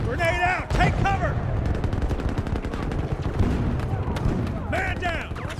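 Dense gunfire in Battlefield 2042 Bad Company Rush, loud sustained bursts of automatic fire with rapid overlapping shots, while shouted voices cut in at the start and near the end.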